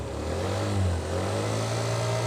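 A small 49cc scooter engine settles into a steady, buzzing idle just after an electric self-start, close by, with a faint rise in pitch early on.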